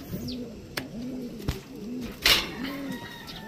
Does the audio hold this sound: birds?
yes